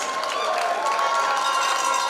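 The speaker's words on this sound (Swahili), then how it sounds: "Makofi kwa Butere Girls." A crowd applauds and cheers for the Butere Girls football team at a school sports award event, a steady wash of clapping throughout.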